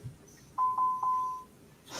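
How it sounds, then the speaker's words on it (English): Three quick electronic beeps sound in a row, followed by a sustained tone that fades out, fairly clear against a quiet room. "I have the beeping."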